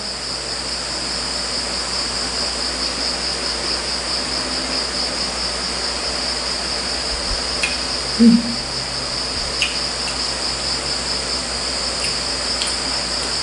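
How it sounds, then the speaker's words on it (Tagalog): A dense, steady chorus of crickets chirps continuously at night, with no other sounds standing out. "Kung may mga naririnig man po kayo sa tabi, yan po yung mga kuliglig."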